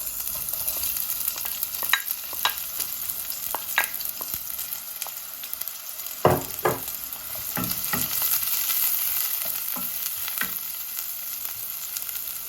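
Onions frying in sunflower oil in a pan for Jamaican callaloo, a steady sizzle with occasional sharp stirring clicks and scrapes near the middle, close and continuous without talk.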